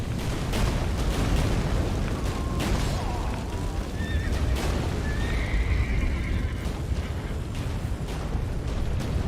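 A horse whinnies sharply in The Witcher 3: Wild Hunt, rising over dense rumbling, booming effects and scattered hoofbeats, with no speech.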